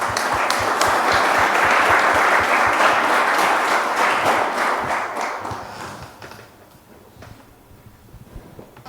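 A congregation at a men's church congress claps to welcome a speaker, dense sustained applause for about six seconds, then it fades into a thin scattering of a few last claps.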